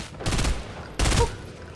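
Gunfire in the video game Fortnite: two loud bursts of shots, one at the start and a second about a second later, each a short rattle fading out.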